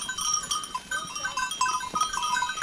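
Farm goats bleat repeatedly while being moved to a new pasture pen, their wavering calls fairly close and overlapping against faint outdoor background.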